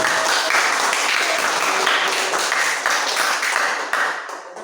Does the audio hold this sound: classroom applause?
yes